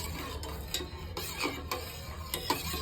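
A spoon stirring salt into a pot of water heating up for ragi java, making light rhythmic scraping clinks against the metal pot, close and fairly faint, with no talking.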